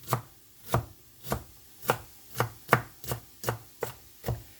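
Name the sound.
knife chopping onion on wooden board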